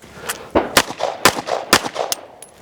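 A custom-built 2011 pistol fired at a shooting range: a quick, irregular string of about seven sharp, loud shots, close by and clear, with no talk over them.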